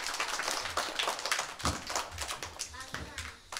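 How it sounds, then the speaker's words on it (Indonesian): Kindergarten children clapping for a classmate at a school holiday event, a quick uneven patter of small hands, fairly faint and under an adult voice talking. "tepuk tangan untuk Komang Prabawa."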